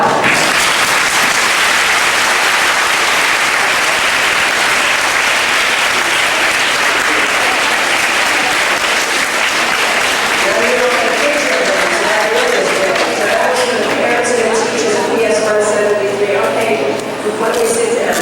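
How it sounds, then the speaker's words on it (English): Sustained applause from a school graduation audience at PS 173 fills the space, dense and steady at first, then thinning out, with a voice speaking over it toward the end. "Little applause."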